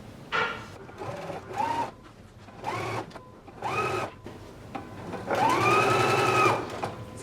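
A serger sewing machine runs in several short bursts, then one longer whirring stretch as it finishes the edge of a facing piece, close up with a rhythmic mechanical chatter and no talking.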